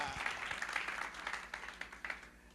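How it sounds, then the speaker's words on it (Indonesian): A church congregation claps in an Indonesian service, a moderate, uneven burst of applause with distinct clap peaks that thins out over a couple of seconds. "Berikan tepuk tangan buat dia"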